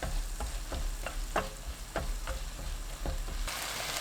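Green chili peppers stir-fry in a pan with perilla leaves, anchovy sauce and soy sauce, sizzling steadily under a regular rhythm of spatula scrapes, about two strokes a second, with a brighter hiss near the end.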